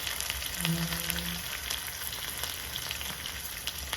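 Chopped shallots, green chili and dried red chilies sizzle steadily in hot oil in a pan, a dense continuous frying hiss with faint stirring and a brief low tone early on.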